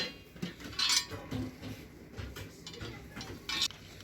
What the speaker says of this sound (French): on a cette nouveauté, c'est des cintres en métal